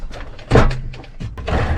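A cabinet drawer in a van being remodeled is pulled partway out, giving a sharp wooden thunk near the start, then lighter scraping and knocking.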